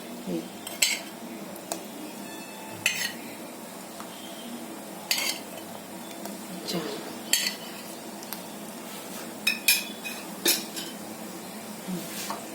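A spoon scrapes and clinks repeatedly against a pot as four spoonfuls of oil go into boiling water. The sharp, close metal taps are spaced every second or two over a low bubbling hiss.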